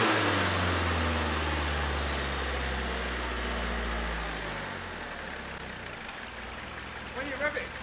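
A van's diesel engine runs close by with a steady low rumble that eases slightly in pitch partway through; brief handling noises near the end.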